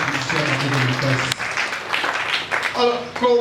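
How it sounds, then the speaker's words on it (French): A church congregation applauding and cheering during a worship service, a broad wash of clapping and voices that swells and fades, with singing or speech mixed in. "Est-ce qu'on peut encore acclamer pour les Seigneur?"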